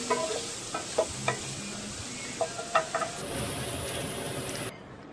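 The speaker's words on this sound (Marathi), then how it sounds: "आता त्याच कढईमध्ये आपण पनीर आणि शिमला मिरची परतवून घ्यायची." Paneer cubes and capsicum sizzle in a kadhai with a steady, close frying hiss, punctuated by a few light scrapes and taps of a spoon as they are stirred.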